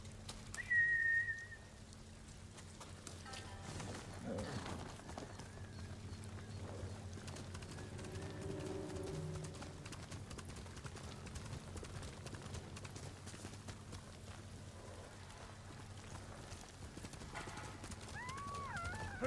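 Horse hooves clip-clop steadily through a Ghost of Tsushima game scene, with a neigh and a whistle near the start over a constant low music or ambient bed, the hoofbeats running at a moderate level from start to end.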